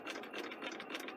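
A sewing machine stitching along the edge of a sleeve placket, a quiet rapid mechanical whirring with rhythmic needle pulses, close and steady without talk.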